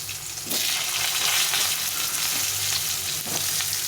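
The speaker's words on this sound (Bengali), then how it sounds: "এখন আমি ঝিঙেগুলো দিয়ে দেবো দিয়ে একটু ভেজে দেবো" Ridge gourd fries with cumin, bay leaf and dried red chilli in hot oil: a loud, dense, continuous sizzle that jumps up after a quiet first half-second, with a few faint stirring scrapes.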